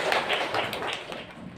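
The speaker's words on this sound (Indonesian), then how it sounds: "Oke, tepuk tangan kita semua." A class of schoolchildren clapping hands together in a classroom, a dense run of quick claps in a rhythmic pattern, fairly loud and close, with no speech over it.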